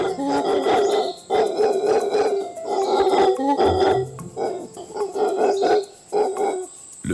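Deep, rhythmic roaring bursts from a mantled howler monkey in a Costa Rican forest, repeated calls close and loud with short pauses between them, no voices present.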